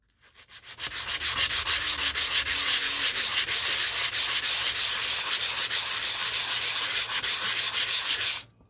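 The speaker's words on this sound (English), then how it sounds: "I'm going to start sanding down this roughness" Sandpaper rubbed across a used, rough Alienware m14x laptop case, a loud, close, continuous scratchy rasp in quick back-and-forth strokes for about eight seconds, then stopping; no talk.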